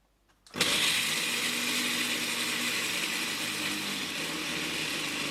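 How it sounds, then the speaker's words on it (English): An electric grinder whirs to life after a moment of quiet and runs at a steady, loud, close drone, grinding peanuts into a fine powder. "Here is an example how I grind peanuts into a fine powder or even make peanut butter."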